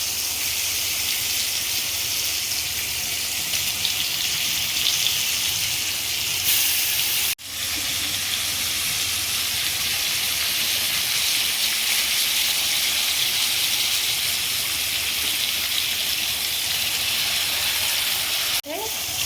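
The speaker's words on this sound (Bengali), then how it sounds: "একটা টমেটো কুচি করে আর লঙ্কা কালো জিরে থেকে ভালো মতো করে ভাজতে হবে" Chopped tomato, green chilli and nigella seeds frying in oil give a steady, close sizzle and hiss that runs without a break, with a short knock partway through and no talking.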